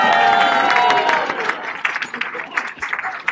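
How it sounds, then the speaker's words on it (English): At a 10th anniversary homecoming event, an audience bursts into applause and cheering that fades over a few seconds into scattered claps, with voices mixed in. "That's appropriate applause."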